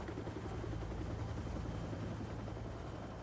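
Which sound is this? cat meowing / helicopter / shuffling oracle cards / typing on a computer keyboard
helicopter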